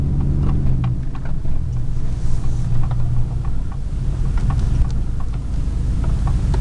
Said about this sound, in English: Now I gotta do this horrible backup.